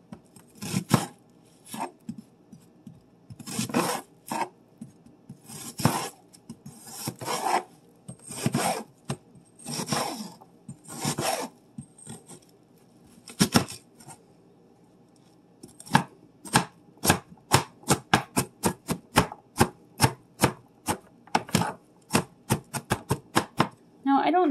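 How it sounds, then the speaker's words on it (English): A knife slices a halved onion on a cutting board, first in slow, uneven chops and then in a fast, regular run of crisp, close taps, with no talking. "Cut the onion down the middle and start slicing short and then long."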